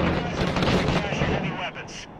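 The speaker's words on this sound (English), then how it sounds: "We're seeing increased RPG fire." Combat in the video game Six Days in Fallujah, with RPG fire: a dense, continuous roar of blasts and gunfire rumbles loudly throughout, with voices talking over it.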